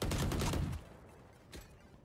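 Valorant gunfire: a loud rapid burst of shots for under a second, then a quieter single shot after a short pause, with no talking.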